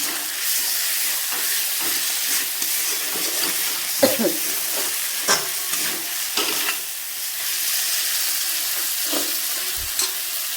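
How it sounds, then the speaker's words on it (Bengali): Curry masala sizzles steadily as it is sautéed in a pan, with occasional scraping clinks of a spoon stirring through it, close and continuous with no talking. "এরপর এটা একটু কষানো ভালো করে হয়ে গেলে জল দিয়ে দেবো।"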